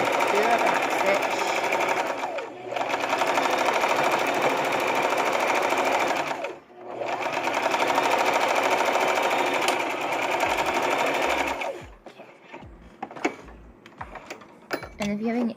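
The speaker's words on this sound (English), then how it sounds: "you're just going to straight stitch it all the way down" Sewing machine straight stitching a removable chair seat cover, a steady close whirr running in two long passes with a brief pause between, then stopping, after which faint handling clicks remain.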